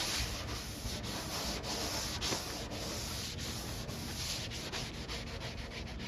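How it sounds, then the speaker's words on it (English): A sanding block rubs back and forth over guide-coated primer in the grooves of a Chevy dually truck bed, a steady close-up scraping hiss with regular stroke pulses and no talking. "I'm going to take my block and I'm going to block sand it. Just kind of go back and forth"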